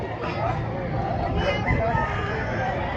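Gamecock roosters for sale crowing amid a noisy crowd, with people chattering in the background throughout.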